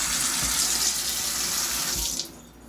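Water runs steadily from a freshly rebuilt Delta faucet into a sink, a close, continuous hiss and splash that shuts off near the end, leaving a quieter room.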